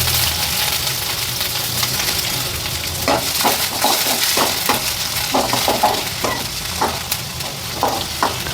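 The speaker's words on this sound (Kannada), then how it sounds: "ಇವಾಗ ನಾನು ಇದಕ್ಕೆ ಈರುಳ್ಳಿ ಎಲ್ಲ ಹಾಕಿ ಫ್ರೈ ಮಾಡ್ಕೊತೀನಿ" Onions fry in oil in a kadai with a steady, loud sizzle throughout, joined midway by a run of scraping stirs against the pan.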